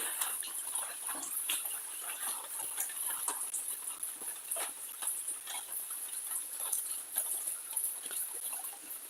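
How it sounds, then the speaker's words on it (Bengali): Rain falls outside on a fish farm with a tin-roofed shed, heard as faint, irregular ticking drips over a soft, steady wash. "এখনো বাইরে বৃষ্টি হচ্ছে"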